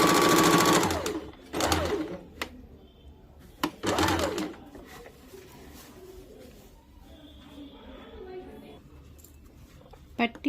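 A sewing machine stitches a waistband strip onto a katori-cut blouse in short bursts, loudest near the start and again around four seconds, with quieter pauses, faint background sounds and a voice in between.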